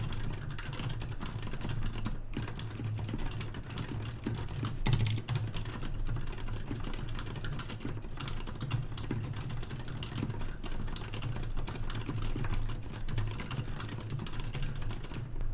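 Keys clatter steadily on a Varmilo mechanical keyboard with silent red switches, an office-style board, producing continuous close, rapid typing strokes with no talking.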